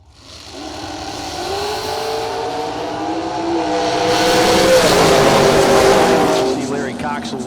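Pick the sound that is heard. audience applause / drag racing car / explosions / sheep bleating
drag racing car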